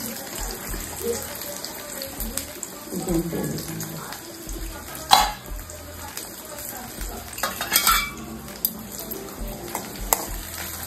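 Onions fry and get stirred in oil in a home kitchen while pulao and brinjal masala are cooked, a steady sizzle broken by scraping stirs and clinks, with some speech in the background.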